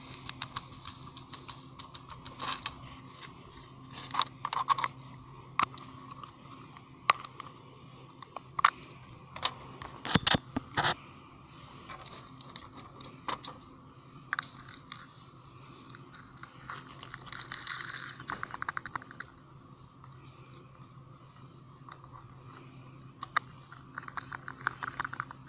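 Gold pins are scraped off CPU and GPU chips in a series of light, irregular scratching and clicking strokes. The strokes come in short bursts, with one louder cluster near the middle, over a faint steady hum.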